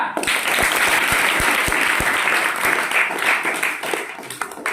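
An audience at a magic show breaks into sustained applause, a dense, loud wash of many hands clapping for several seconds, with a few close, sharp individual claps standing out.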